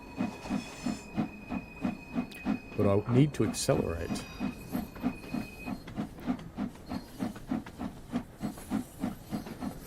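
Steam locomotive in Train Sim World 2 on a heavy rail tour train, chuffing in a steady rhythmic beat with a loud burst of hissing steam partway through and a thin whistle-like tone, while someone talks over it.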